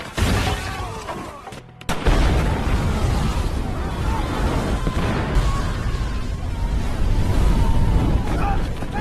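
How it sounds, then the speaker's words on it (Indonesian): Loud, continuous rumbling blasts from bomb traps going off in the action film Shooter, a dense wall of booming noise that breaks off briefly before surging back. "mereka justru malah termakan perangkap bom yang Swagger tebar sebelumnya"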